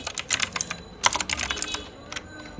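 Computer keyboard keys tapped in quick irregular bursts, close and clear, with short pauses between runs of clicks during a web design lesson.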